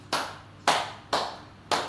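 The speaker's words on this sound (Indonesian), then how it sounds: "Tepuk 1 kali, tepuk 2 kali, tepuk 3 kali, 4 kali" A group claps hands in a counted rhythm of single sharp, close claps, four separate claps spaced roughly half a second apart in a quiet room.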